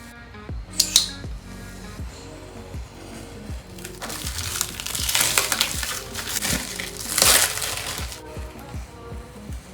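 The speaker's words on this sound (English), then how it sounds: "So here we are, the packaging from Indonesia. Let's open it up." Packaging for coffee beans from Indonesia is opened close up, with crinkling, rustling and crunching that come in uneven bursts and grow louder toward the middle and end.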